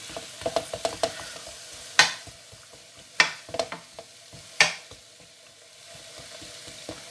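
Courgettes with garlic fry in a pan as they are stirred. A soft, continuous sizzle runs under repeated utensil scrapes and several sharper clinks against the pan, all close up. No one speaks.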